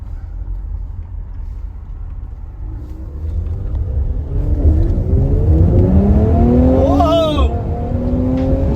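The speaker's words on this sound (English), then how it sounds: "the car finally got tuned now" A Renntech-tuned Mercedes-AMG C43 accelerates hard, starting as a low rumble and building to a loud, rising engine roar through several gear changes, heard from inside the car.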